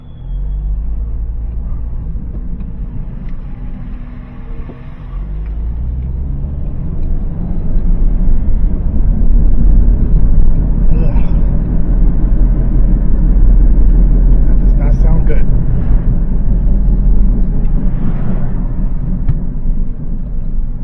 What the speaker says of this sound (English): Bearings are making noise.